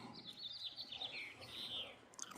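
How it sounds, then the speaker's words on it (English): Birds chirp continuously in the distance, thin high tweets over a soft outdoor background. "and the noisy birds"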